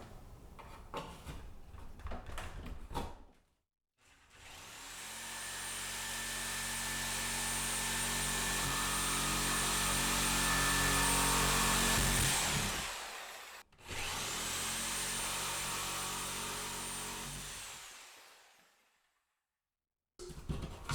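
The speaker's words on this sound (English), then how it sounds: "Take a fine tooth blade for metal, hacksaw blade." Metal-cutting hacksaw blade with fine teeth cuts into a wall while moving an outlet, giving a long, close, steady rasping drone that swells and fades, pauses briefly, then resumes before stopping.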